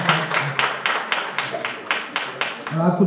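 Audience applause at a mushaira poetry gathering and book launch, a steady run of rhythmic claps from a crowd, heard close with a voice rising near the end.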